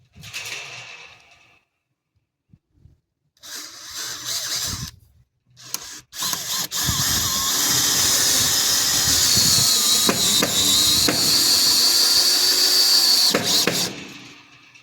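Power drill countersinking holes in a utility trailer's wood floor: several short bursts, then a long, loud continuous whirring grind with a squealing edge, each drilling run stopping abruptly.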